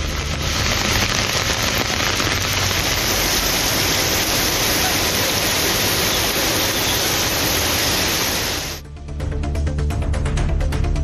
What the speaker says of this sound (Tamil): இதேபோல புறநகர் பகுதிகளான பூந்தமல்லி, மாங்காடு, குன்றத்தூர், கோவூர் உள்ளிட்ட இடங்களிலும் கனமழை கொட்டியது.